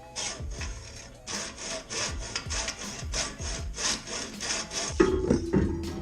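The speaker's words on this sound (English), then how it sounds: "So I'm gonna see if I could just cut those down with a hacksaw" A hacksaw cuts down go-kart tie rod bolts in quick, rhythmic back-and-forth strokes, close and steady, with a raspy scraping tone over about six seconds.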